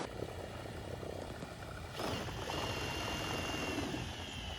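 A drill-powered propeller spins on a kayak, giving a steady buzzing whir that grows louder and brighter about halfway through and then holds evenly.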